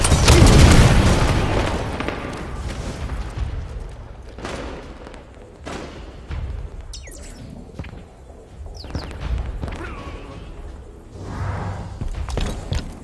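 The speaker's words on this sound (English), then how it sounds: "Grenade out!" A grenade goes off in Halo 5 Warzone multiplayer, with a loud, heavy boom at the start that rumbles away. Scattered thuds, whips and combat noise follow after it.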